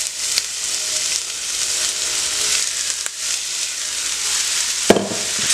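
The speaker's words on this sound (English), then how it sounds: "So we're gonna cook everything up in our cast iron skillet" Vegan mushroom meat sizzles in a hot cast iron skillet, a loud, steady, hissing fry that runs throughout, broken by a few sharp clicks and a thump near the end.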